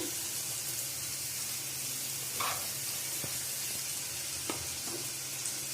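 Chopped onion, green chilli and tomato go into a pan of softened carrot pieces for carrot chutney, setting off a steady, close sizzle with a few soft scrapes and taps of stirring.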